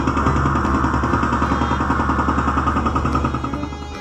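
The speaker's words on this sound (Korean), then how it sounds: "공사장 공사 소리 두두두두!" Construction-site machinery hammers away with a loud, rapid, rattling drumming like a jackhammer or engine-driven breaker, continuous and close throughout, easing slightly near the end.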